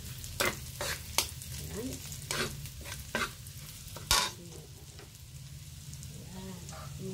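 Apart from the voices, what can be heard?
mung beans (monggo) cooking in a pan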